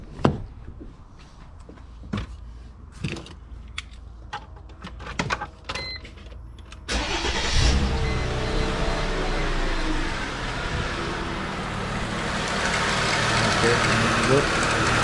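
Mercedes ML55 W163 with a worn drive pulley: a few close clicks and knocks, then the engine cranks and settles into a steady running roar that builds slightly and continues to the end.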